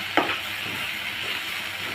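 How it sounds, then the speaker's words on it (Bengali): Bitter gourd leaves being stir-fried in a pan: a steady bright sizzle throughout with a brief scrape of stirring near the start, close and moderately loud, no speech. "আমি নেড়ে চেড়ে একটু ভেজে নিব।"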